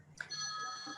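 A telephone rings with a bright, steady electronic tone that starts with a short attack and holds for the rest of the moment, moderately loud in a quiet room with no talking over it.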